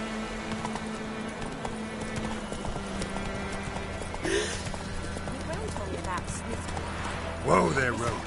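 Roach the horse trotting in The Witcher 3, steady clip-clop hoofbeats close by with a brief whinny near the end, game ambience and a voice over them.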